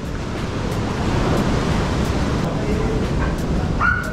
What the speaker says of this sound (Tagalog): Lakas ang alon na yan.